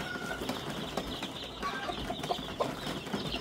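Two-week-old chicks in a brooder make faint, scattered chirps and soft clucks over a steady background hiss, with a brief rustle of movement.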